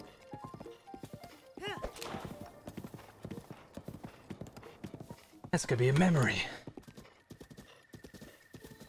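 Horse galloping in the Breath of the Wild video game, steady clip-clop hoofbeats with a brief neigh near the end, running under frequent talking.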